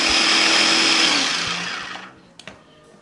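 An electric food chopper whirs loud and steady for about two seconds while chopping shallots, garlic, curly red chilies and bird's eye chilies, then winds down into silence broken by a couple of sharp clicks.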